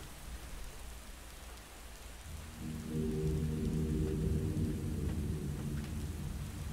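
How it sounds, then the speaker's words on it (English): Steady rainfall in the video game The Stanley Parable: Ultra Deluxe, a soft continuous hiss of drops on surfaces, with a low rumbling swell like distant thunder building partway through and lingering, quiet and without voices. "Rain."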